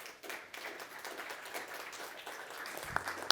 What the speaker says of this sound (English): So big applause for you,